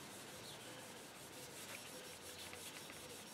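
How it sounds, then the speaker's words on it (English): Hand rubbing an oil rust finish onto metal, a close, continuous, steady hiss of rhythmic back-and-forth strokes at an even pace, with no talking. "All this rubbing."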